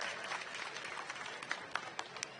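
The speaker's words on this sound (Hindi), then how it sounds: "जरा जोरदार तालियों से उनका स्वागत सब मिलकर हम कर दें।" Brief, fairly faint clapping from a crowd at an outdoor Congress party rally in Indore, scattered uneven claps with a few louder individual hits toward the end.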